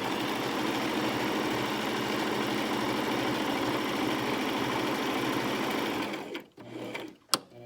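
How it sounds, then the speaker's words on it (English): A sewing machine runs steadily while stitching the folded top edge of a Christmas stocking, a continuous mechanical whir that stops near the end, followed by a couple of small clicks. "I'm putting my stitch between an 1/8 inch and a 1/4 inch from the top edge"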